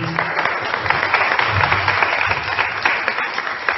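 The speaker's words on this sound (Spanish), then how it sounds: "Un aplauso para ella." Audience applause at a tango presentation in a library park, a dense continuous clapping from a crowd that sounds moderately near and stays steady throughout.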